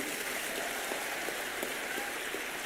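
An audience in Madhya Pradesh breaks into steady, dense applause, a continuous wash of many hands clapping throughout with no pauses.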